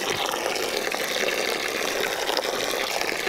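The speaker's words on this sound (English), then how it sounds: "I am sitting over here waiting for the pig's water to fill up" Water from a garden hose fills a pig's water container on a farm with a steady, rushing gush. It sounds close and fairly loud and continues unbroken throughout.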